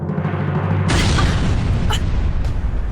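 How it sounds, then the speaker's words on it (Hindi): A deep explosion bursts in abruptly after a low rumble, followed by a sustained roaring blast with a couple of sharper cracks, loud and close, with no talking. "ये धमाकों की आवाज कहाँ से आ रही है?"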